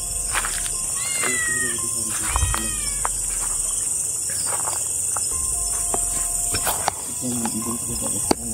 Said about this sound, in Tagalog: parang umiyak ang pusa